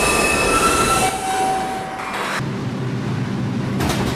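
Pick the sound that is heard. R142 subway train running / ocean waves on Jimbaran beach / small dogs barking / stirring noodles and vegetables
R142 subway train running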